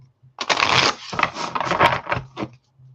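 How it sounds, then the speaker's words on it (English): A deck of cards is shuffled close up, with a few quick riffling bursts and softer slaps and pauses between them, fairly quiet overall. "All right, a couple more shuffles here."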